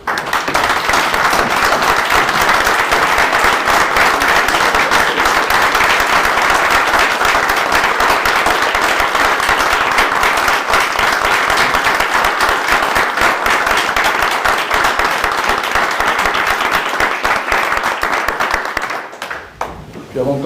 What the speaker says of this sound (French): on va applaudir chaleureusement donc toutes ces équipes